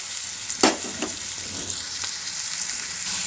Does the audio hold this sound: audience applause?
no